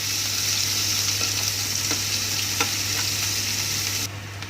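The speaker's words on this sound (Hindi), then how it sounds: "प्याज को भी हम हल्का सा भून लेंगे।" Chopped onions sizzle steadily in oil in a pan over a medium flame while cooking sarson ka saag, a continuous close frying hiss with a few faint clinks of stirring, no talking.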